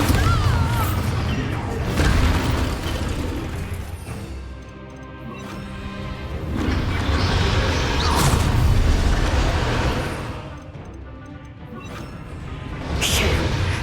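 A Bombarda blast spell from Hogwarts Legacy goes off in a spell-heavy fight, with loud crashing booms and whooshes rising and falling through the clip beneath occasional spoken words.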